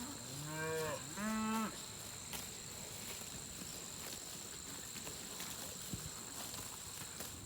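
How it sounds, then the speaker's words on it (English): Cattle grazing a fall clover pasture: two loud, close moos in quick succession, then steady outdoor quiet with a continuous insect drone and faint rustling. "We can show you a video of the cows chomping down on clover in the fall."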